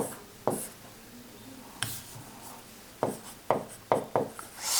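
Chalk or marker writing on a classroom board during a Rajasthan geography lesson: scattered short scratchy strokes and taps, a handful of quick marks clustered toward the end, fairly quiet with no talk.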